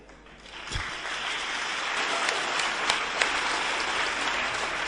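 A church congregation breaks into applause after a soft start, the clapping swelling within the first second into a sustained, fairly close wash with a few sharper individual claps standing out.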